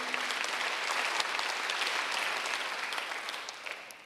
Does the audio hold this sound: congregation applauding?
yes